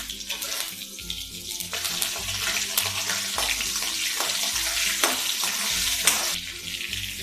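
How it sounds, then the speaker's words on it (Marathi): Mustard seeds, cumin, green chilli and curry leaves sizzle and crackle in hot oil while tempering for khaman dhokla, a steady loud frying hiss with sharp pops, over a repeating low hum in the background. "त्याच्यामध्ये मोहरी टाकत आहे, जिरं टाकत आहे, हिरवी मिरची टाकत आहे, कढीपत्ता टाकत आहे,"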